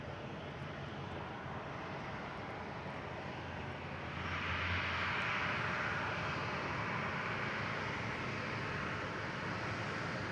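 A Boeing 737-900 airliner arriving at Boston Logan steadily roars across the whole span, growing louder about halfway through as the jet draws nearer, with no voices.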